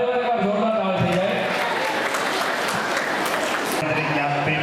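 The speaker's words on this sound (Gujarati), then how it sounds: "ફરી એકવાર જોરદાર તાળી થઈ" Applause from an audience for schoolchildren at a school Navratri festival, continuous crowd clapping mixed with festive music tones and background chatter throughout, fairly loud and steady.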